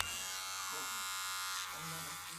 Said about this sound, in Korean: 방 쪽에서 면도기 소리가 들리자 발딱 일어섭니다.